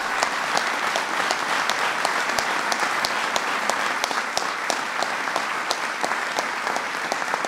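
An audience at a presidential bill signing claps in a dense, steady round of applause that stays even and fairly loud throughout, with no voices over it.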